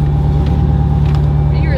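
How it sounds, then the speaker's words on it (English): A loud Lexus engine with a 1JZ motor and an exhaust hole rumbles steadily at close range in a parking garage, with a deep continuous drone and faint higher noises over it. "the best is when you're in like a little parking garage, you have a loud car"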